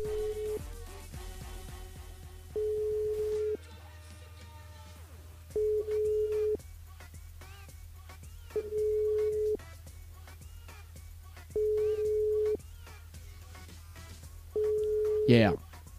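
A telephone call rings unanswered over a phone line, with regular ringback tones repeating about every three seconds and a brief louder burst near the end, while people talk in the background.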